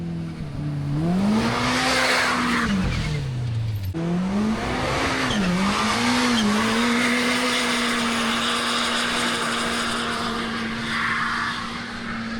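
Kawasaki Teryx H2 supercharged side-by-side accelerating hard in four-wheel drive, a loud close engine roar rising and falling in pitch through gear changes, then holding a steady high drone, no talk.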